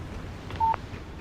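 A single short electronic beep from a phone in the Alan Wake video game, clear and close against a low steady background hum, with no talk.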